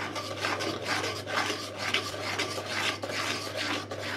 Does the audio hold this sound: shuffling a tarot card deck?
no